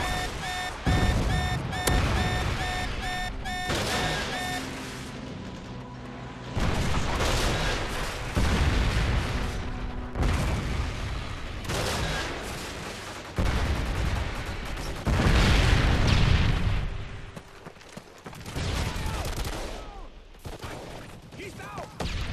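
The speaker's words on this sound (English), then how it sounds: "Friendly Predator missile inbound." Predator missile strike explosions in a first-person shooter video game, loud repeated booms mixed with bursts of gunfire and mechanical clatter, dense and continuous throughout.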